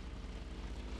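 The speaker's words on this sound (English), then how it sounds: "I think that's a helicopter." A helicopter flies close by in the battle royale video game TABG, heard as a steady, fairly faint rotor and engine drone with a soft pulsing throb and no talking over it.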